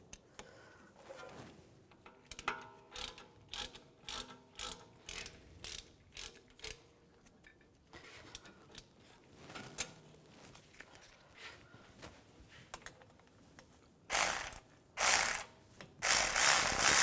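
Hand ratchet tightening the front brake bolts on a 2004-2010 BMW X3 during a rotor replacement, rapid clicking bursts in repeated strokes, close and loud, with short pauses between pulls and no talking.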